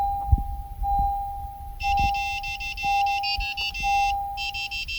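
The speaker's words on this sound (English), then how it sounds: "Once hear the beeping sound indicating programming is successful." A 2016-2018 Honda HR-V sounds a series of rapid electronic beeps after key fob programming, clear and close, in bursts with short gaps over a steady background hum.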